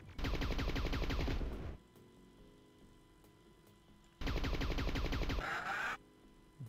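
Gunfire in the shooter Killing Time, two long rapid bursts of automatic fire, loud and close, separated by a few seconds of quiet game hum.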